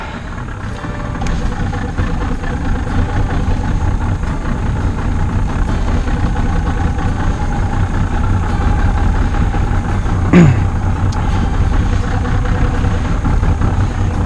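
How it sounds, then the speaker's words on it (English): A boat engine idles after a carburetor rebuild with its exhaust down in the water, a loud, steady low rumble with a burbling undertone and a brief sharp squeak partway through. "the exhaust is down in the water, so you're going to have some back pressure going on"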